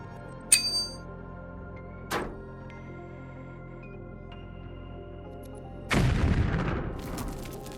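A few separate booms at intervals as a tank's ammunition cooks off after a drone-dropped grenade, the last one a long rumbling blast that trails off, with quiet background between them.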